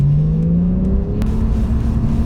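A base Porsche 911 accelerates with a steady engine drone that climbs in pitch through a gear. A brief click marks the midpoint, and the engine holds a constant, loud whir from inside the car.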